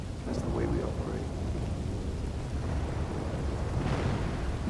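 A loud thunderstorm in Red Dead Redemption 2 roleplay, with steady heavy rain and rolling thunder, while voices briefly speak beneath the storm.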